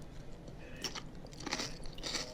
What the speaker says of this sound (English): just kind of wanted a little crunch in my eggs